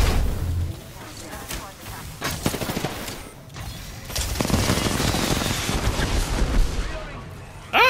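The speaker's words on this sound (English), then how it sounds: "That's a turret! That's a turret!" Rapid turret fire in the video game Apex Legends, a heavy continuous machine-gun rattle with booming impacts that swells louder midway and runs under excited shouting from a player.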